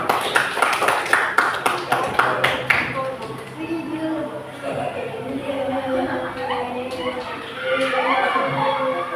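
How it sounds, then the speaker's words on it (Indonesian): A class of students applauding a presenting group in a classroom: a burst of rapid hand clapping from many people for the first few seconds, fading out as a teacher begins talking. "Tepuk tangan buat kelompok enam."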